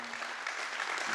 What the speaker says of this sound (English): A round of applause for Nathaniel.